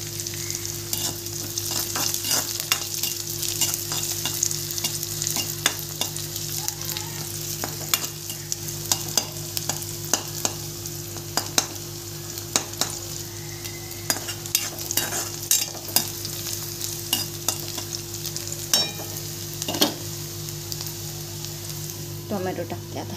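Onion and tomato frying in a pan give a continuous close sizzle, with a spoon repeatedly scraping and stirring against the metal and a steady low hum underneath.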